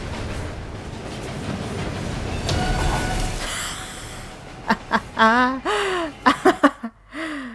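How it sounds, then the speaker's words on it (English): A train rumbles past in the Murdered: Soul Suspect video game, a loud, broad noise that fades after a few seconds, followed by a voice gasping and whimpering up close. "Can I not cross there then? Will I get hit by the train?"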